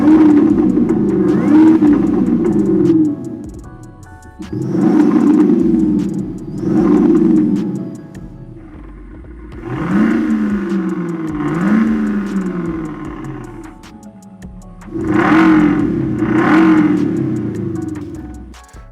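Deep, loud BMW X5 engine note revving up and down in repeated swells, with a throaty, synthetic-sounding rumble from a Maxhaust electronic active exhaust system.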